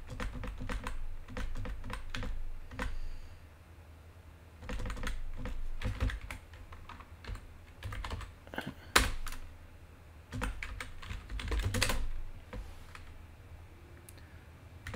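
Someone types a chmod command on a computer keyboard close by, sending out quick bursts of key clicks with short pauses between them.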